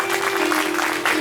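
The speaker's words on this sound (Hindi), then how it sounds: "एक बार श्री कृष्ण के लिए जोरदार ताली बजाइए" Gathering at a Shrimad Bhagavat Katha recitation in Manegaon, Chhindwara, claps loudly for Shri Krishna, a brief steady burst of crowd applause over a sustained tonal hum.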